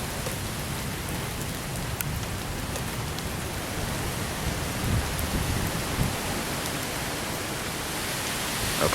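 Steady, dense rain falls during a severe thunderstorm in Lincoln, Nebraska, a constant hiss with soft low rumbles beneath, no voices.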